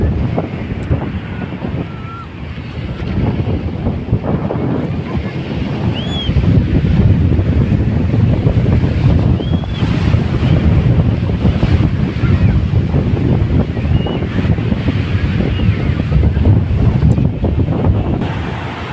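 Sea waves roll and wash ashore at Arnala Beach in Virar, a loud continuous surge with heavy wind buffeting the microphone, the surf rising and falling over about twenty seconds.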